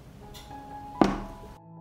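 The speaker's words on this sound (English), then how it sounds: "I put the pan on the stove." A water-filled pot holding glass jars set down on a stove, a single solid thunk at close range with a short ringing tail, preceded by quiet.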